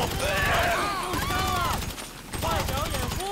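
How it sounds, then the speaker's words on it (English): Assault rifle fire in Grand Theft Auto 5 crackles in rapid bursts under constant loud game noise and music, with someone talking over the shooting. "my shooting has gotten way better on this character. This freaking assault rifle is amazing"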